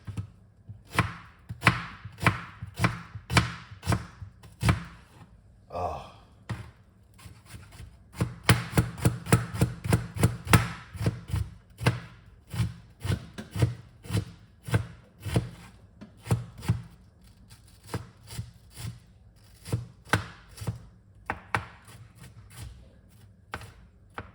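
White onion being chopped on a board, a long run of close, rapid knife taps in quick bursts with brief pauses, steady rhythm throughout and no speech.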